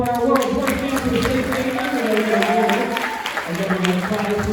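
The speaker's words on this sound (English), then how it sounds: "how about a big round of applause for our world's worst dancers?" An audience at a high school stage hypnosis show applauds the worst dancers, steady clapping and crowd noise running under a voice talking over it.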